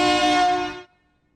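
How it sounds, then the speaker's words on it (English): A loud, brassy truck horn blast holds steady for under a second and then cuts off sharply. Its thick, buzzy tone resembles a train horn. No voices are heard. "That almost sounds like a train horn."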